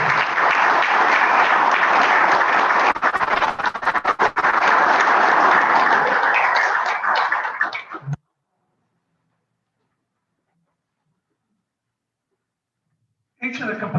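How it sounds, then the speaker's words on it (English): A graduation ceremony for a machining trades chapter fills with dense, steady audience applause for about eight seconds, then cuts to silence before a brief burst of sound returns at the end. "How about a round of applause for our company?"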